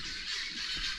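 A flock of birds honks noisily in a dense, continuous squawking chorus at steady loudness.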